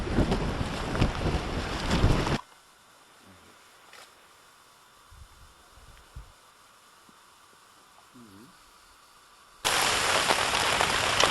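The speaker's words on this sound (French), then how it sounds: "là on entend le bruit de la pluie sur la toile de tente comme d'habitude" Rain patters on tent canvas at a polar expedition camp in the Canadian Arctic, loud and dense at the start and end with a much quieter lull between, no talking.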